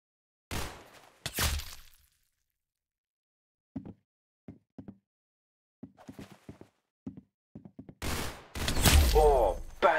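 A 1v1 shooter video game: a loud burst of rapid gunfire opens, then sparse faint clicks and footsteps, before a heavier volley of shots and a shattering crash closes the scene. A voice speaks briefly.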